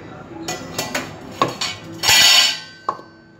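Onion and soya kebab mixture being mixed in a pan, a run of sharp metallic taps and clinks from a utensil with one longer scraping stroke, close and fairly loud, no talking.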